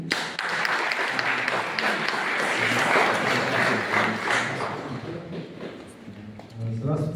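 Concert audience in a hall in Saint Petersburg applauding at the close of a performance, a dense sustained wash of clapping with crowd noise that fades slightly toward the end.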